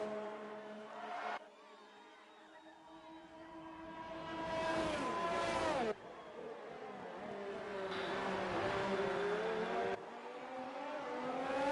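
The number 6 Ferrari race car roars past at Monza in a racing video game, engine pitch sweeping up then dropping as it passes and shifts, with other cars' engines whining steadily around it, loud and near.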